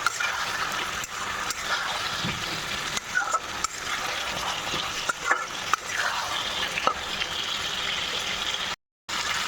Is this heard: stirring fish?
yes